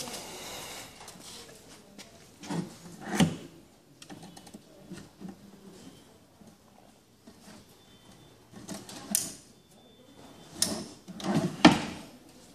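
A wooden drawer is slid into a single-basin vanity cabinet with a stone top during assembly, giving several knocking, scraping thumps in bursts with quieter handling noise between.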